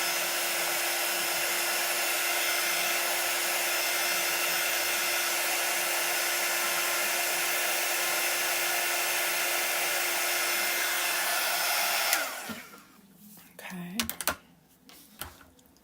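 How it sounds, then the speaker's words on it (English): A hair dryer blows steadily and loudly up close to dry chalk paste for a Chalk Couture craft, then switches off, leaving quiet handling sounds. "I'm going to dry this one again"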